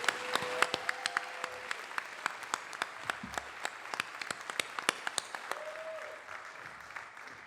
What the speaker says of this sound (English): let's have a big round of applause for all of our award recipients